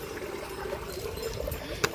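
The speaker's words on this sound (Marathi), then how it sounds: "इथनं थोडं थोडं येतंय पाणी" A thin, steady trickle of water runs continuously into a small clothes-washing pool at low volume, with a small splash near the end.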